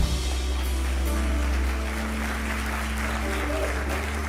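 Church congregation applauding during a sermon in Balneário Camboriú, a dense steady wash of clapping from a crowd over a low hum, holding level then easing slightly toward the end.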